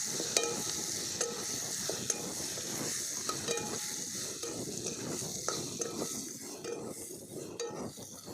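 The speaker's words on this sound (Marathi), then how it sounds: "आता या फोडी यात टाकायच्या चांगल्या परतून घ्यायच्या" Vegetable pieces fry in spiced oil while a spoon stirs them, producing a steady soft sizzle with repeated light scraping and clinking strokes against the pan at an uneven rhythm, close but fairly quiet.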